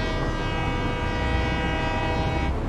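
A locomotive horn in the Satisfactory video game blares one loud, continuous, chord-like honk that holds steady for nearly three seconds before cutting off.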